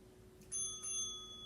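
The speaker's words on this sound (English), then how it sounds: "When you hear that bell" A single bright bell chime marks the end of a hip-bridge hold in an exercise routine, ringing out twice in quick succession and fading, clear and fairly quiet over a low steady hum.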